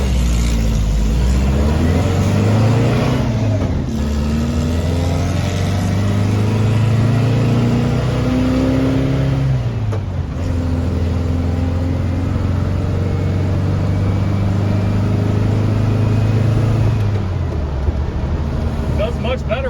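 A Volkswagen Baja with a stock engine and transmission drones loudly while driving, the engine note climbing and dropping through several gear changes, heard from inside the cabin with talk over it.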